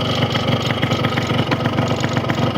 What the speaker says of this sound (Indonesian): Nah itu yang bunyi nih ya, plat depan nih